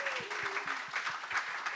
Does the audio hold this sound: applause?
yes